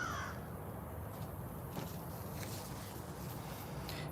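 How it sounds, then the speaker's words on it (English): Crows hidden in garden trees give a faint, distant caw at the very start, then steady quiet outdoor background noise continues. "it's those crows in there that are talking about us"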